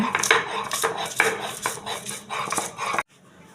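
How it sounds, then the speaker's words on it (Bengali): Ginger and garlic are ground on a flat grinding stone: rhythmic, close scraping and rubbing strokes repeat steadily for about three seconds, then stop abruptly. "আদা রসুন আগে থেকেই শিলা পরিষ্কার করে রাখছিলাম তখন আমি এগুলো বেটে নেব"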